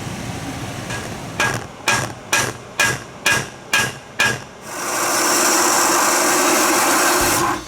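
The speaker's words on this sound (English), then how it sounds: "can be brought in and put on an anvil with a hammer" Seven sharp metallic hammer blows on an anvil ring out in a steady rhythm, close by, followed by a loud continuous mechanical roar.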